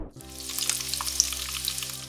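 Food frying in a pan gives a steady, close crackling sizzle with fine popping spatters throughout, and a low hum sits underneath; no voices are heard.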